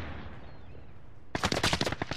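Rapid automatic gunfire bursts out suddenly in Call of Duty: Modern Warfare, a loud crackling volley of shots following a quieter stretch of ambient game noise.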